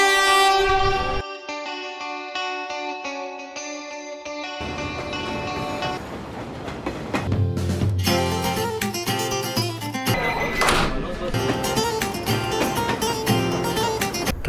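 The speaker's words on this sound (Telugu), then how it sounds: "వచ్చింది వచ్చింది వచ్చింది ట్రైన్ వచ్చింది." A Vande Bharat Express train arrives with loud, sustained horn blasts, one long sounding followed by further blasts over the growing rumble of the approaching train, close and powerful.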